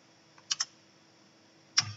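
Computer keyboard keys are struck in short, sparse clicks, a quick pair followed by a pause and then a single firmer tap, close and fairly quiet in a silent room.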